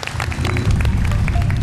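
Round of applause from a studio audience on a Vietnamese TV game show, a dense steady patter of many hands clapping, close and lively, building slightly over the short stretch.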